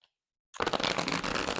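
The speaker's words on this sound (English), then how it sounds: "Let's try and give them a shuffle." Tarot cards with a plasticky linen-finish cardstock are riffle-shuffled on a table, a dense, crisp flutter of cards that starts abruptly after half a second of silence and runs to the end.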